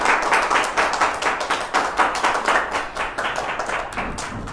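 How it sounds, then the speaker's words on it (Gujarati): Dense, energetic clapping from an indoor audience welcoming a guest at a formal gathering, many hands beating together in a steady, loud burst that continues throughout without speech. "જોરદાર તાળીઓના નાદ સાથે આપણે આ ક્ષણને વધાવીએ"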